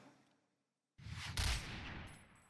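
Gunfire in the video game Point Blank during an armor test: a sudden dense burst of shots starting after a short silence, loud and close, peaking in a sharp crack before trailing off into continued rattling.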